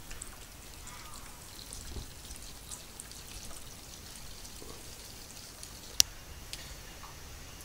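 Wort trickles and pours steadily from a mash tun while first runnings are drawn off during all-grain brewing of a black IPA, a faint continuous splashing flow with a single sharp click near the end.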